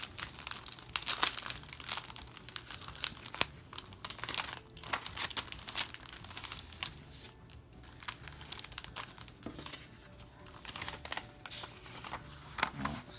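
Package holding a vintage Anne Adams sewing pattern being opened: continuous close crinkling and crumpling of paper and plastic, with sharp rustles, small tears and handling noises throughout.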